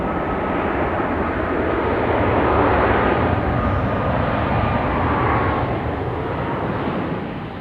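Jet aircraft at Raleigh Durham International Airport, a loud steady roar of engines that swells and then eases slightly as it passes, with no talking.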